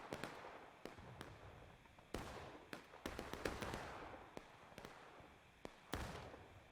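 Battle in a multiplayer Civil War video game, with a series of sharp booming artillery and gun reports, some close and loud and others distant, firing irregularly over a rumbling background.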